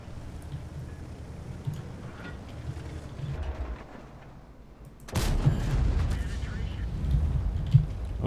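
An artillery shell in World of Tanks lands with a sudden heavy boom midway, loud and close, after quieter battle rumble, then a sustained roar of engine noise and firing follows.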